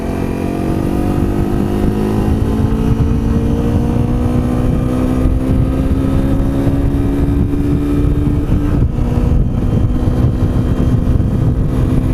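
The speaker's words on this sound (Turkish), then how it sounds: "Egzoz sesine hastayım bunun ya." A Honda CRF250L motorcycle engine drones continuously, its exhaust note climbing steadily in pitch as it accelerates, then dropping briefly before pulling on, loud and close.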